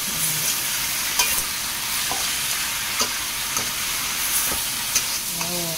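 Bean curd is stir-fried in a hot pan with a loud, continuous, close sizzle. Scattered clicks of a spatula scraping the pan cut through it, and no one speaks.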